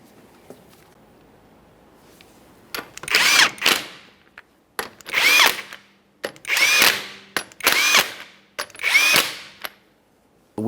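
Power tool snugging up lug nuts on a Toyota Sienna wheel, five loud, close whirring bursts of about a second each, separated by short pauses, with quiet handling noise before the first.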